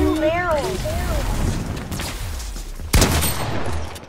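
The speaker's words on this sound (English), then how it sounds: "That's a double barrel shotgun, that's it." A double barrel shotgun fires in a video game: one sharp, loud blast lands late, over a bed of game noise, with a voice talking near the start.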